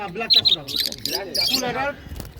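Caged Bengalese finches and zebra finches at a bird market let out short, high chirps in a few brief bursts beneath close, steady conversation.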